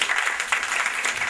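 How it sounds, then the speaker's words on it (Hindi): Applause from an event audience after a host's call to clap, a dense steady patter of many hands for a short burst, fairly close and without speech over it. "पाकिस्तान के लिए तालियां होनी चाहिए ना"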